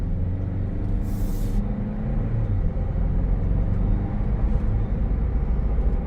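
A 2026 Toyota Land Cruiser on Nitto tires drives along, a steady loud engine and road rumble continuing without a break throughout and no voices.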